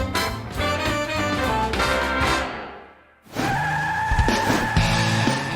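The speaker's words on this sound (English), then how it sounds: "We got a car coming in right now." A car driving onto a lot at an outdoor food spot in San Antonio, loud and close, with a squealing, whining tone that briefly drops away mid-way, then returns strongly; no talking.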